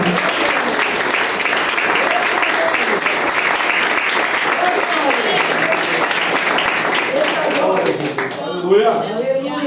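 A church congregation gives sustained, loud applause during a sermon, thick clapping that continues for about eight seconds before dropping away as a voice speaks.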